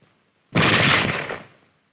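A single small-arms gunshot: a sharp, loud broadband crack after a brief silence, then a decaying burst of noise fading out over about a second.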